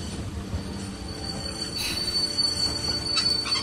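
Train wheels squealing in The Walking Dead Telltale video game, a steady high metallic screech sustained over rumbling rail noise, loud and close with no voices.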